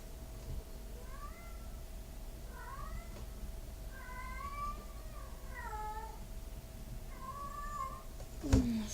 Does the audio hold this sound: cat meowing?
yes